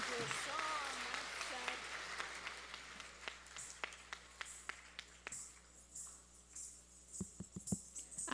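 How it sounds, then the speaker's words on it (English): Applause follows a performance at an event. It begins under a voice speaking, then thins to scattered individual claps that fade out, heard fairly faint across a room. "One more round of applause for her."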